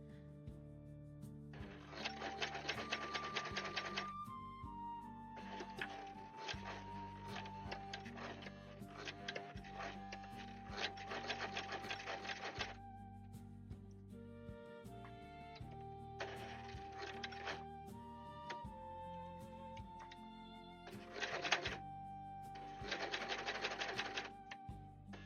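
An old sewing machine stitches in several bursts of rapid, steady mechanical rattling, some long and some short, with quiet gaps between them and soft background music throughout.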